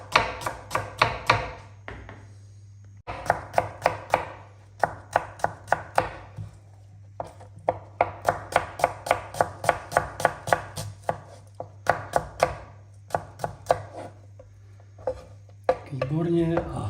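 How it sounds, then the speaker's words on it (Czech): A knife chops onion into half rings on a board with quick, crisp rhythmic strokes in bursts, close up, with brief pauses between runs of cuts. "Nakrájím si cibulku, tentokrát takhle na půl kolečka."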